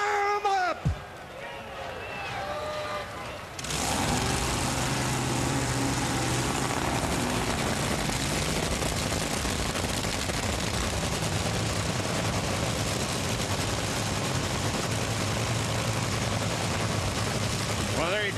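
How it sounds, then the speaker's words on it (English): Drag racing engines fired up at Bristol, Tennessee, bursting into a loud, continuous roar that swamps everything after a few seconds of crowd and announcer talk. "The engines roar into life."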